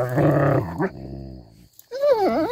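A dog growls and whimpers up close in short throaty bursts, with a brief pause and a higher whining sound at the end.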